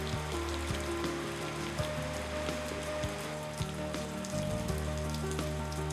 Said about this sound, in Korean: 우기인 요즘 쏟아지는 열대 소나기 스콜은 이 마을 사람들에겐 반가운 선물이기도 합니다.